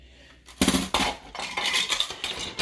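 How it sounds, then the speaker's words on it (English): A knife cuts onion on a cutting mat with a few sharp, close chops and scrapes, starting after a short quiet moment and continuing unevenly. "That big piece, I'll cut that with the knife."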